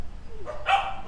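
A dog barks at the Soi Dog Foundation shelter in Phuket, giving one short close bark over faint background noise, with a brief whine just before it.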